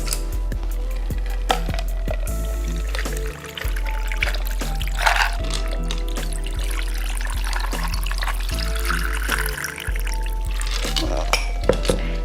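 Fruity fall sangria poured from a pitcher into a glass, a steady liquid pour with occasional clinks of glass and ice, under a steady low background hum.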